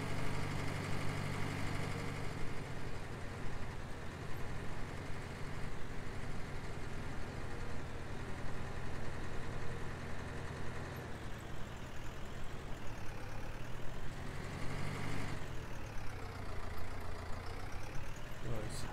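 A farm vehicle engine driving in Farming Simulator 19, a constant mid-pitched drone that runs for the whole stretch with slight shifts in pitch toward the end, close and steady.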